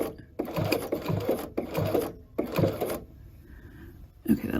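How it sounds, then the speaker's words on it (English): A home sewing machine stitches the bottom bar of a buttonhole for a McCall's 8031 garment, whirring in several short bursts separated by brief pauses, close and steady, with no talk over it. "press the button on my sewing machine to create that bottom bar and then go up the other side"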